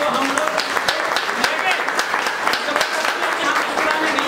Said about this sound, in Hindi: थोड़ा सा जोर से ताली बजाइए